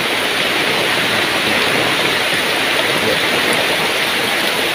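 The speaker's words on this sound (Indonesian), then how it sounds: "Hujan, lihat air-air juga." Heavy rain pours steadily over countryside in Cirebon, a dense, loud, unbroken hiss of water with running runoff, and a brief voice speaks once.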